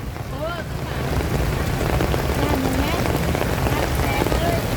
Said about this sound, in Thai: ฝนก็ตกแล้วทำไงอ่ะ